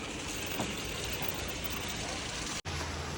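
A tractor engine drones steadily and loudly throughout a ride to farm fields in a rainy village, a continuous rumbling noise with a brief cut near the end.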